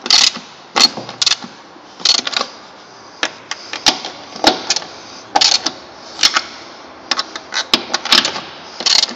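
Fasteners being tightened in a staggered pattern to draw a Nautical Napper plate down evenly: a run of sharp ratcheting clicks in short bursts with brief pauses between, close and fairly loud.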